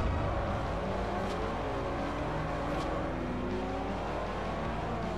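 A muscle car fitted with nitrous racing in the Forza Horizon 2 video game, its engine roaring steadily and loudly throughout with shifting pitch, and no talking.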